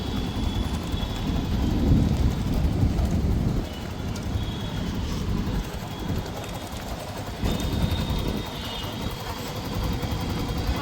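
A Yamaha motorcycle engine revs steadily as the clutch is slowly released in first gear during beginner riding practice, a continuous low rumble that swells and eases, close and fairly loud throughout.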